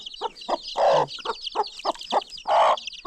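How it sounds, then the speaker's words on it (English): A hen kept inside an enclosure clucks close by in a quick series of short, rhythmic calls, with a couple of longer, louder squawks mixed in. "There's a hen inside there."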